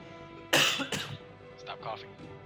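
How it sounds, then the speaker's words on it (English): A couple of sharp, harsh coughs up close, followed by softer throat-clearing sounds over a quiet background hum. "Stop coughing."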